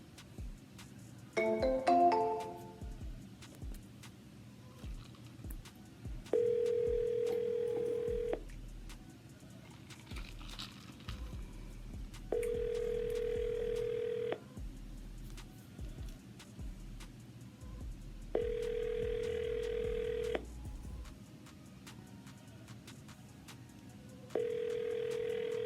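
Outgoing call on a mobile phone: a burst of rapid dialing tones, then four evenly spaced ringback tones at roughly six-second intervals over steady low background hum, with no talking.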